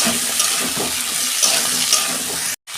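Cabbage and other vegetables fry in plenty of oil for a Bengali cabbage ghonto, giving a steady close sizzle and hiss with faint stirring that runs almost unbroken, then stops briefly near the end.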